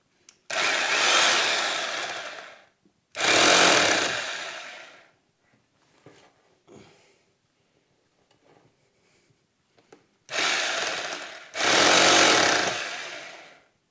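Power drill boring a hole with a drill bit while installing a toilet paper holder: four loud, close bursts of whining drilling, two early and two late, separated by quiet handling noises.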